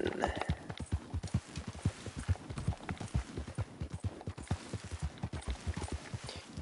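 A horse's hooves clip-clop in a quick, steady riding rhythm across open ground in Red Dead Redemption 2's New Austin, close and distinct, with faint game ambience beneath.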